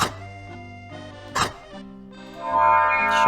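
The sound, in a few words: neighbor's dogs barking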